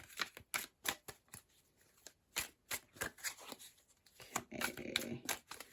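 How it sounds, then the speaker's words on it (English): Tarot cards riffled and shuffled repeatedly in quick crisp bursts, close up, with brief pauses between shuffles. "Let's give these a good shuffle."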